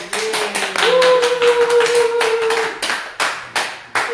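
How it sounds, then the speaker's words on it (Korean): A tired studio audience at a Korean pledge talk show gives sparse, uneven clapping, close and clear, over a sustained steady tone, thinning into a few isolated claps near the end. "자, 박수로."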